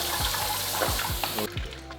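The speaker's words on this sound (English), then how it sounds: "You want to pass through cold water so it stops cooking." Cold running water splashes steadily over cooked soba noodles in a sink, a continuous bright rush with a few low knocks and thumps from handling, the flow cutting off near the end.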